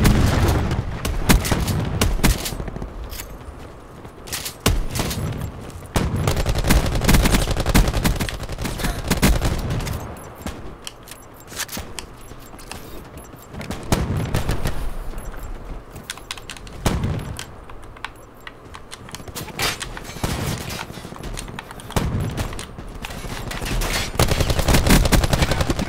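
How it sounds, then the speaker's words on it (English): Gunfire in the battle royale mode Blackout of the shooter Black Ops 4: loud bursts and single shots recur in clusters across the whole stretch, close and sharp, with no talk over them. "now I'm gonna shoot people"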